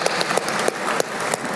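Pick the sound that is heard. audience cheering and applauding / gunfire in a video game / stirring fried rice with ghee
audience cheering and applauding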